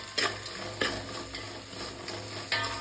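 Ingredients fry with salt in a pan, giving a continuous close sizzle and several rhythmic scraping strokes of a stirring utensil, with no voices.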